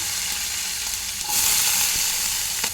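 Green chillies and onions fry in hot oil with mustard seeds and cumin, a steady close sizzle with crackling that swells louder about halfway through, no voices.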